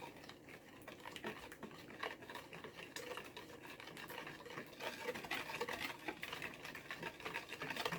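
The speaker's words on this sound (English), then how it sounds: "Go ahead and kind of whisk this part together." A whisk stirs apple cider donut batter in a bowl, a quiet continuous rhythmic scraping and clinking close by.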